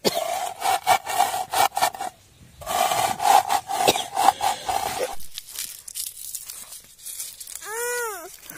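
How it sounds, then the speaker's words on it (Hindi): Coriander seeds are rubbed and crushed by hand outdoors in a hill village kitchen to split them, giving rhythmic rough scraping strokes in two runs with a short pause between; a brief high chirp sounds near the end. "उसको ऐसे धनिया को रख के ऐसे पीसना है, रगड़ना है ताकि उसके दो हिस्से हो सके"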